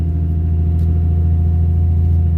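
A car on the long drive home on a road with a bad wheel bearing, a steady, loud, low engine and road drone holding constant with no talk.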